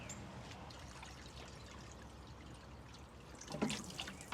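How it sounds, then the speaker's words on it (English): Water poured from a bucket into a brand-new swimming pool pump to fill it, a soft trickling splash that grows into a brief louder gush near the end, quiet and close. "Fill your pump all the way up with water."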